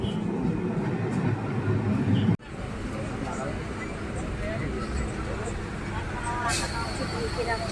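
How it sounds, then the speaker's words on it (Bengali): A passenger train bound for Howrah rumbles into a station, a loud steady roar of wheels and carriages close by, with a sharp break partway through and voices talking over it. "এই আমাদের ট্রেন এসে গেছে।"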